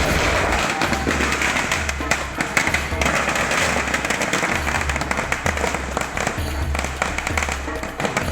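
Strings of firecrackers burst on a road during a street birthday celebration, a dense, continuous crackle of rapid loud pops with heavy low thumps throughout, amid crowd noise.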